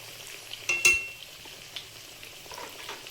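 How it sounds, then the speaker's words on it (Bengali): A spatula scrapes and clinks against a pan while chili chicken sizzles softly, a couple of brief stirring knocks standing out over a low, steady frying hiss. "চিকেনটা মাঝখানে মাঝখানে একটু করে নেড়ে দেবো যাতে এক সাইড পুড়ে না যায়"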